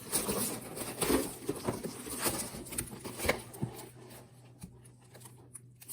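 Sheets of craft paper from a stamping catalog package rustle and crinkle as they are handled, with soft irregular patters and light taps close by, fading quieter toward the end, no voices.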